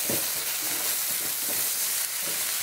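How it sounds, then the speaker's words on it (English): Tomatoes and onions frying in a pan, a steady loud sizzle with soft rhythmic scraping as they are stirred, close and continuous. "now we stir this up"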